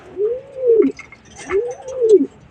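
Two soft, rounded pigeon coos, one after another, close and clear with a short pause between them.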